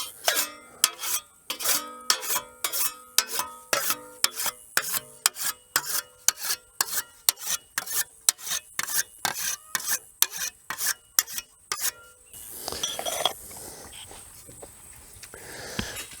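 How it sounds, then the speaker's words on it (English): A whetstone is drawn along the cutting edge of a scythe blade for mowing hay, giving about two dozen crisp, rhythmic rasping strokes close by, alone and evenly paced, before the strokes stop and a quieter broadband rustle follows. "it's really just by sliding along the cutting edge and straightening the edge back to get a sharp edge."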